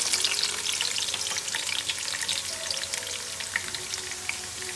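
Chopped garlic fries in a pan with a dense, steady crackling sizzle close up, many small pops running evenly throughout with no voice.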